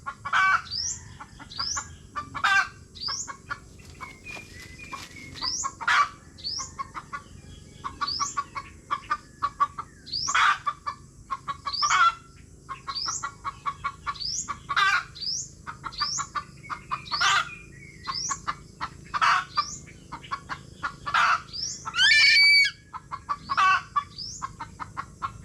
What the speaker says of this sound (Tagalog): huwag mo bulabugin ang manok dito